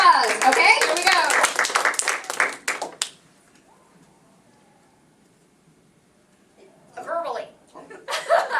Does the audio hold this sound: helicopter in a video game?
no